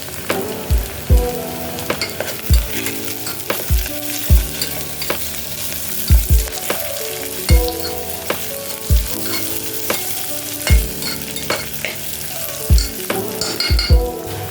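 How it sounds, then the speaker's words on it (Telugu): Onions, curry leaves and garlic cloves fry for mutton keema, a loud close sizzle broken by a steady rhythm of spoon strokes knocking against the pan roughly every second. "ఉల్లిపాయలు గోల్డెన్ బ్రౌన్ కలర్ వచ్చాక కరివేపాకు, వెల్లుల్లి రెబ్బలు,"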